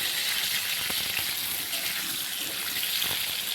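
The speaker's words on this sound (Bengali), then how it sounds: "তো প্রথমে জিরে ফোড়ন দিয়ে এটা বসিয়ে দিয়েছি ভাজতে" Green banana and fritter curry vegetables fry in hot oil with cumin seeds in a home kitchen, a steady, close crackling sizzle with a few soft stirring clicks and no talk.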